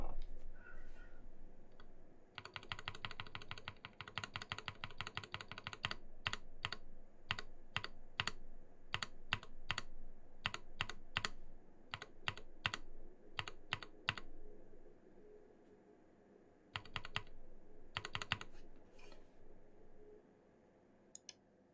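Someone types on an Iron180 WKL mechanical keyboard with a brass bottom, making steady bursts of close, crisp key clacks with brief pauses between runs and no talking.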